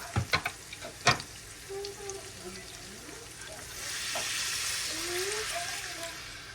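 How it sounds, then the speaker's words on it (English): Garlic and onion sauté in butter in a pan for a Chinese broccoli stir fry. A soft sizzle swells into a steady, louder hiss in the second half, with a few utensil knocks early on and talking over it. "So I'm just sauteing my garlic and my onion in some butter"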